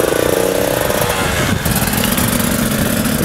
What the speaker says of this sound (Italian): oggi siamo a bordo di un Husqvarna 125 TE e oggi appunto proveremo e vedremo come si comporta questa moto su strada.